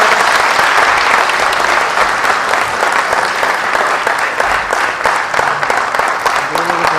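A large audience at a social justice forum gives a loud, sustained round of applause to welcome a Supreme Court senior advocate, dense clapping continuing steadily throughout.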